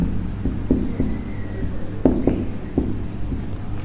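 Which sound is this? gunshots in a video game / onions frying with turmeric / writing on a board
writing on a board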